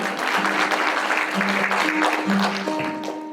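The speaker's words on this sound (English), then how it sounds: "round of applause for Ken Johnson." An audience at a senior center fashion show in Huntington, NY applauds, loud and dense clapping filling the room while sustained music tones enter and rise underneath toward the end.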